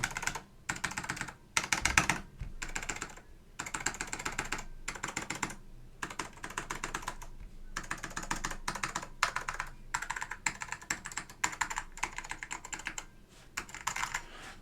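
Someone types on a vintage Apple M0116 keyboard fitted with Alps SKCM Orange switches, producing quiet, rapid bursts of clicky keystrokes separated by short pauses, close to the microphone.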